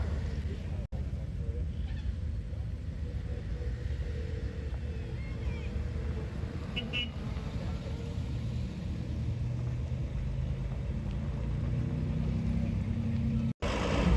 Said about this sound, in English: Behind it is a Kenworth Model K100.